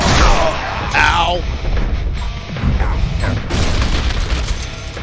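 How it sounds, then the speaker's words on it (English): A deep bomb explosion in the Deadpool video game boom rolls out through a dense, noisy mix of game effects, with a voice speaking over parts of it. "Bomb."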